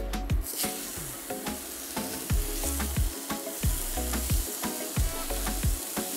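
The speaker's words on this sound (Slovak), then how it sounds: "pomedzi to budeme ešte opekať aj halloumi syr na panvici" Halloumi cheese frying in a pan, a continuous crackling sizzle with repeated rhythmic scraping thuds of a utensil against the pan, close and steady.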